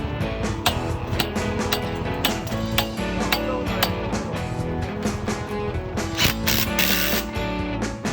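A Makita 40V cordless impact driver (TD001G) in bolt mode fastening bolts: a loud, close, continuous rattling hammer that runs unbroken for several seconds with slight surges, and no talking.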